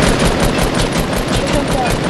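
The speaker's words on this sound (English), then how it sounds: "Oh, somebody's shooting at me." In Fortnite, a burst of gunfire rattles continuously and loud, rapid automatic shots packed densely together across the whole moment with no clear gaps.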